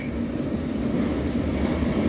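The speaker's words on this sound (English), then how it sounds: "This is a Hammersmith City Line train to Barking." A London Underground Hammersmith & City line train rumbles steadily from inside the carriage, a loud, continuous low roar with faint high whines, and no talk.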